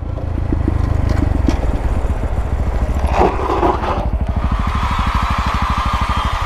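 Honda Grom motorcycles ride in with a loud, close, steady engine chug and rumble, rising briefly mid-way, then settle into a rhythmic idle putter.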